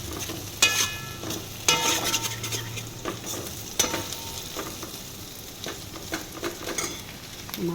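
Okra curry with chili sizzles steadily in a pan as a utensil stirs and scrapes against the metal, producing irregular clinks and scraping bursts over a soft continuous frying hiss.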